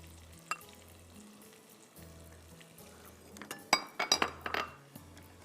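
Green onion leaves going into a hot pan for dandan noodles, with a soft background sizzle and scattered clinks of utensils and glass, building to a cluster of sharper knocks and scrapes near the end.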